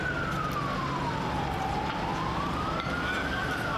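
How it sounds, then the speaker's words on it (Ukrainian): An emergency vehicle siren wails continuously, its pitch sliding slowly down and back up, loud over a steady rumble of traffic. "Ще на спальний район Черкас розбудили звуки сирен спецавтівок"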